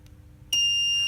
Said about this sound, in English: I'll connect the buzzer back